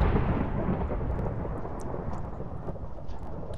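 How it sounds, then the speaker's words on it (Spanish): Thunder rolling in Minecraft, a loud deep rumble that starts strong and slowly fades across a few seconds, with faint rain beneath and no talking. "Mucho trueno, pero..."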